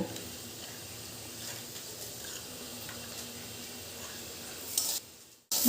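Pieces of elephant foot yam fry in a pan with a quiet, steady sizzle and a few faint stirring scrapes. A brief louder rush comes at the very end, over an otherwise calm, even background.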